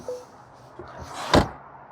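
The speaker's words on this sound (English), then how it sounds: "let's listen to the sound of the closing door" Door of a 2024 Mercedes-Benz E350 sedan closing, a single close, solid thunk after a few faint handle clicks, otherwise quiet.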